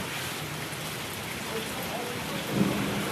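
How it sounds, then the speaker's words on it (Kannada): Steady rain pours down continuously with a dense hiss, and a faint low rumble rises briefly near the end. "ಮಳೆ ಮಳೆ ಮಳೆ ಅದ"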